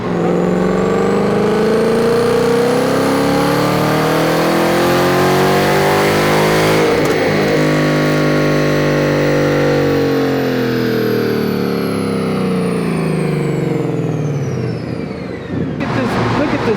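A Ford Mustang GT with a twin-turbo kit at about 5 PSI of boost makes a full pull on a dyno. The engine roars steadily up through the revs for over fifteen seconds, loud and close, then cuts off near the end.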